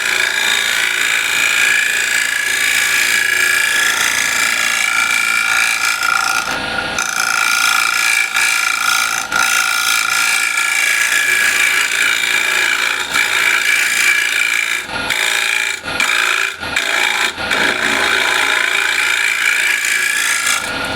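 A standard scraper cuts across the inside of a turned wooden bowl on a lathe, giving a steady, close, raspy scraping hiss that runs continuously, broken by a few brief pauses near the end.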